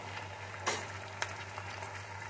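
Spices frying in oil in a pan for a Bengali stuffed pointed-gourd dish, a steady soft sizzle with a couple of brief stirring scrapes, fairly quiet and close, no talk.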